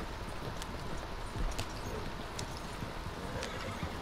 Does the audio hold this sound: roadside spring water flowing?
no